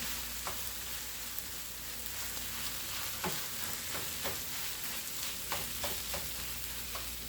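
A vegan beef patty mixture is stirred in a hot pan on the stove, a constant sizzling hiss broken by repeated scraping and tapping strokes from the utensil at an uneven rhythm, close and clear with no voices.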